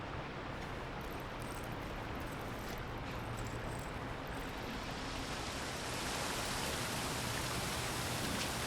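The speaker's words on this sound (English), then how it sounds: "Is it raining?" Steady broadband rain hiss in the video game SIFU, continuous and fairly loud, swelling slightly toward the end with no voices.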